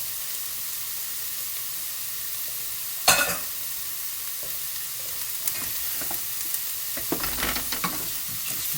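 A stir fry sizzles steadily in a hot pan over high heat, with a sharp burst of frying as food is tossed and scattered crackles and stirring clatter later on.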